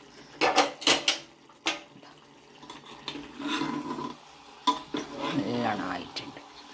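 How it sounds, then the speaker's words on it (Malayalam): A metal lid lifts off a pot of koottucurry, a traditional sadhya curry, with a few sharp clinks and clatters of utensils against the pot, then soft bubbling and stirring from the cooked dish. "നമുക്ക് ഒന്നും കൂടി ഇതിൻ്റെ മൂടി തുറന്ന് നോക്കാം."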